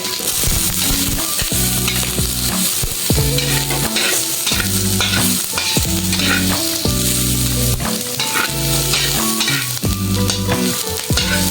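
Ginger stir-fried in a pan for a beef dish with annatto and chili, a loud continuous sizzle with scraping stirring strokes, close up and steady throughout, no voices.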